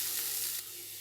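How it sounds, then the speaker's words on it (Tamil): Masala with chilli powder and garam masala sizzles steadily in a hot pan, a close, even frying hiss that dips slightly partway through, with no talking. "இப்போது எல்லா மசாலாவோட ராஸ்மெல் போகிற அளவுக்கு நல்லா வந்து வதக்கிக்கோங்க."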